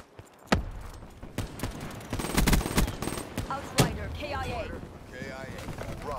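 Automated drone gunfire from a Talon scorestreak in a multiplayer shooter, with sharp bursts and rattling shots at varying distance amid battlefield noise and radio-style announcer chatter.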